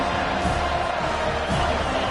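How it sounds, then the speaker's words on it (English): Football stadium crowd at an FSU game cheering in a dense, steady roar that fills the space, loud and continuous with no single voices standing out. "They challenge this crowd to bring the energy, and I'd say they're doing that"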